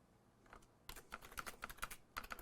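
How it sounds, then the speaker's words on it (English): Snapshot description being typed on a computer keyboard, a brisk run of light clicking keystrokes after a short quiet start, close and fairly quiet with no talk. "I can type in anything I want that helps me describe what's going on, hit OK."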